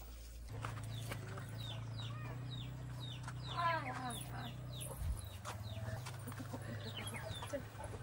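Chickens cluck and a rooster-like call rises in short repeated bursts near a village home kitchen, with a steady low hum underneath and faint voices in the background.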